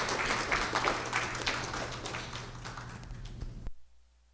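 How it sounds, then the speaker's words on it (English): A forum audience applauding panelists: a dense wash of clapping heard from within the room, fairly steady and moderately loud, cutting off abruptly near the end. "give a round of applause to our panelists for sharing with us"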